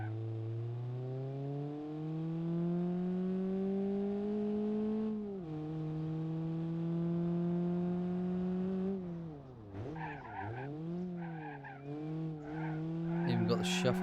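A video game car engine in BeamNG.drive revs up steadily with a rising whine, shifts, then climbs again before dipping and revving with some clatter near the end.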